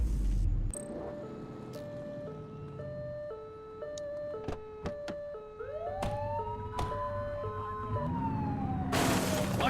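A police car siren in the video game The Precinct wails in a stepped two-tone pattern, then shifts to a rising and falling sweep, with sharp impacts and a closing rush of noise.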